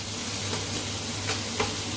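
Butter frying in a pan, giving a dense, close hiss and sizzle that stays constant, with a few brief spatter pops standing out over the steady frying noise.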